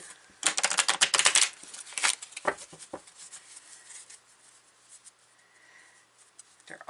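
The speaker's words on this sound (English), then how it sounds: "They're awkward to shuffle" A quick burst of shuffling awkward heart-themed oracle cards, rapid papery riffles up front, then a few slower flicks and quiet handling that taper off.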